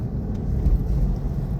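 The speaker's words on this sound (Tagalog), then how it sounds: "Na-stuck kami sa traffic." A car crawls along in slowed highway traffic, giving a steady low engine and road rumble heard from inside, with no distinct events.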